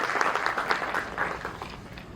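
An audience at a keynote talk claps steadily in dense, even applause throughout, moderately loud and continuous without pauses.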